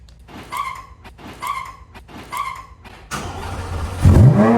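A 2023 Corvette Z06 engine cranks three times in short bursts, then catches and revs loudly into a deep, roaring exhaust note close by.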